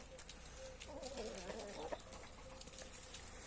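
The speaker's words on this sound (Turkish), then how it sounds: "Bu zaten diğer horozumuz, ana horozumuz." A rooster clucks and calls briefly nearby, a soft throaty burst in the middle of quiet outdoor background.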